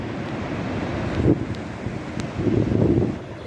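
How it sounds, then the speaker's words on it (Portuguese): Sea waves surging at high tide on a beach at Itanhaém on the south coast of São Paulo, a constant low roar of surf with wind buffeting the microphone and swelling louder toward the end, no voices. "Olha o somzão do mar"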